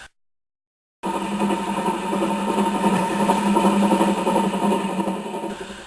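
Gordon the big blue steam engine pulling away from the station with his coaches, a steady, loud mechanical rumble that starts abruptly after a second of silence and holds without break.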